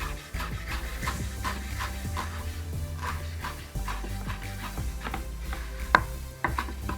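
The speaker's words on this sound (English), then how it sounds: "we're going to gather up our herbs and just give them a quick rough chop" Fresh herbs are roughly chopped with a knife on a board, giving a series of quick irregular taps over a low steady background hum, with no talk.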